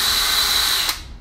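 Einhell 18V cordless battery drill running at speed, a loud steady high-pitched whir with a ratcheting edge that cuts off sharply near the end.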